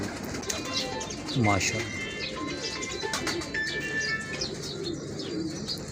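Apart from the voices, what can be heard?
old pigeons cooing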